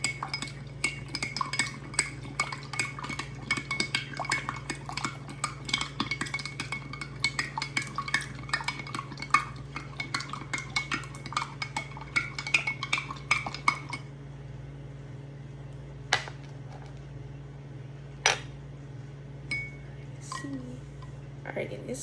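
A metal spoon stirs salt water in a drinking glass, clinking rapidly and repeatedly against the glass for several seconds before it slows to a few isolated taps over a low steady hum.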